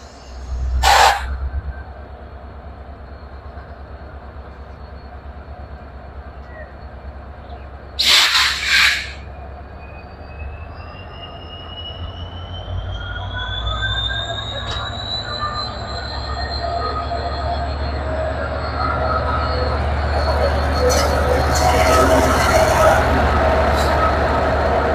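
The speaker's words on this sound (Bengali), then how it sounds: "পঞ্চগড় থেকে ছেড়ে আসা আন্তনগর বাংলাবান্ধা এক্সপ্রেস ট্রেন রাজশাহীর উদ্দেশ্যে ছেড়ে গেল" A Banglabandha intercity express train pulls out of platform 2 at Natore railway station, Bangladesh, with a steady low rumble that grows louder as the wheels squeal in rising tones, and two sharp clanks early on.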